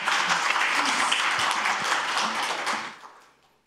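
Audience applause at the launch ceremony of a social welfare solidarity group's presidential election committee, a steady dense patter of many hands that fades out over the last second.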